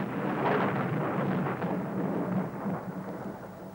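Thunder in a violent thunderstorm: a heavy, continuous rumbling roar that swells early and then rolls on steadily, loud and broad, with no voices.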